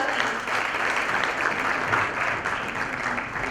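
A youth award event audience, Glocal Teen Hero 2016, breaks into sustained applause to welcome a representative; dense, even clapping from a large crowd, moderately loud and steady throughout, with no clear talk.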